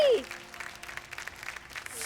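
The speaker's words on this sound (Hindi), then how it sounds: "जरा जम के ताली बजाइए" Scattered hand clapping from a small group of people at home follows a brief voice, the claps coming as a light, uneven patter for about two seconds.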